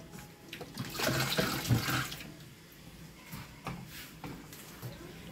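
Tap water runs and splashes in a kitchen sink as a toddler washes dishes, a steady close stream with clinks and bumps, strongest early and then softer.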